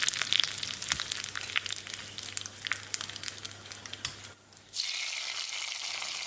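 Curry leaves, dried red chillies and mustard seeds temper in a tablespoon of hot coconut oil for a pepper mutton curry, with sharp crackling pops that fade, a brief lull, then a steady loud sizzling hiss.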